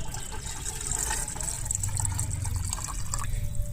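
Asafoetida-infused buttermilk is poured from a bottle onto garden plants, giving a steady, continuous splashing trickle of liquid at close range throughout.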